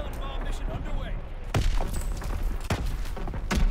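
Artillery barrage in Call of Duty: WWII, with several heavy booming impacts and gunfire bursts landing over a rumbling battlefield bed, loud and fairly close, while voices talk underneath.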